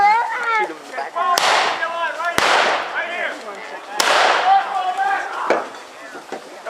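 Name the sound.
blank gunfire at a Civil War reenactment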